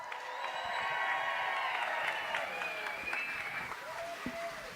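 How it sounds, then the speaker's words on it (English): Sustained applause and cheering from a crowd at a political rally for the Texas governor in Midland, steady and fairly loud throughout, with some voices mixed in. "How about another round of applause for our Governor, Greg Abbott?"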